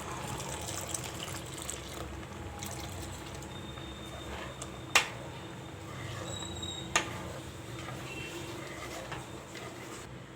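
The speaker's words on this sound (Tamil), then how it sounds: "இப்போ இதில் கொஞ்சம் பால் சேர்த்துக்கலாம்." Milk being poured into a pot of moong dal payasam in a home kitchen, a steady low liquid gush with a couple of sharp clinks, moderately close and without talk.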